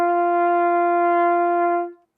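A single sustained trumpet note played with correct tonguing, a clean attack and steady, bright tone held for about two seconds before stopping, close and solo.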